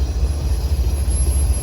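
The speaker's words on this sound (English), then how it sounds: "The first train to come was NS Manifest Train 32N, which comes out of Decatur, Illinois" A Norfolk Southern manifest freight train, 32N, with Union Pacific and BNSF locomotives, rumbles past close by, its steady low roar of rolling wagons and wheels continuous throughout, with no voices.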